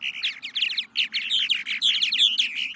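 Purple martins calling in a dense, continuous chorus of chattering, gurgling chirps and warbles, several birds overlapping close by with no pauses and no voices.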